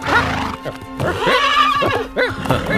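A horse neighs loudly and close up in a Hindi-dubbed film, with a long shrill whinny followed by shorter snorting calls and faint hoof movement, and no talk over it.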